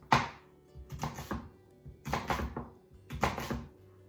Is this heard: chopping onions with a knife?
yes